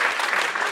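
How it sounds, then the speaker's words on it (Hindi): A brief burst of dense applause fills a live class session, steady and moderately loud for its whole short length. "एक बार जोरदार तालियां"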